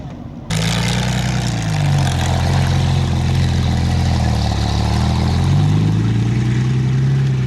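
A Panther tank's 700-horsepower engine starts up abruptly and runs steadily at a deep, loud idle, its low rumble rising and falling slightly in pitch.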